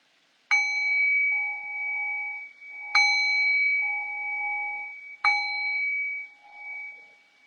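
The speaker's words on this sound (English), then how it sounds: "I'll cue that by ringing the bell 3 times." A meditation bell is struck three times at steady intervals, each clear strike ringing out and slowly fading before the next, alone in a quiet room.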